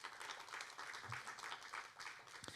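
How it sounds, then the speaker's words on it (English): Audience applause at the opening of an Israeli film festival, a soft, fairly distant patter of many hands clapping for a couple of seconds with a low murmur beneath. "Applause for Shemi."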